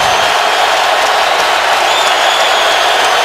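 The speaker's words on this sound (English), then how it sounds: "This crowd is really into it." A sellout stadium crowd at a Colts NFL home game in Indianapolis against the Titans roars and cheers. The dense wall of noise stays loud and unbroken throughout.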